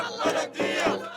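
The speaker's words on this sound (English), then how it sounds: "the crowds gather still outside the military headquarters. Today they're chanting, "Only blood washes blood."" A protest crowd outside military headquarters in Sudan chants in unison, loud massed voices rising and falling in two rhythmic surges within a brief moment.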